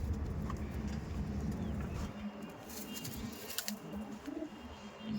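Pigeons of the Andhra Madrasi breed coo faintly in a loft. The soft calls sit under a steady background hiss and low rumble.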